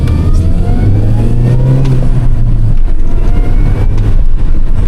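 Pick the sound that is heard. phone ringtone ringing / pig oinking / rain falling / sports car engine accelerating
sports car engine accelerating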